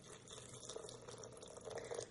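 Tap water runs steadily into a pot to cover bananas in a kitchen, a faint, continuous trickle and splash with small bright dripping accents and no talking.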